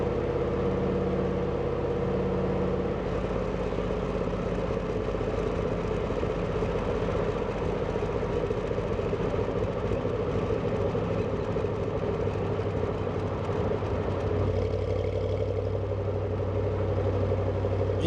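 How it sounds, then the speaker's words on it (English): A 1969 Corvette Stingray convertible with a 350 engine cruises in 4th gear at about 1500 RPM, its low, steady, even rumble loud and continuous with no other sounds. "Engine runs awesome. I'm here in 4th gear still, just about 1500 RPM, not chugging, nothing, running great."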